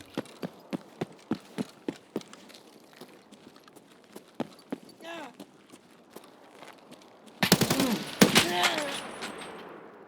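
Hip-fired gunfire in Escape from Tarkov: a steady series of sharp single shots over the first few seconds, then a loud, dense burst of rapid fire near the end, with quiet footsteps and movement between.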